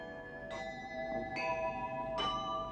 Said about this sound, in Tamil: அதோ பார், கோயில் மணி ஓசை கேட்கிறதா?